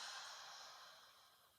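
Slow exhaled breath during a breathing exercise, a soft airy whoosh that fades gradually, quiet and close with no talking.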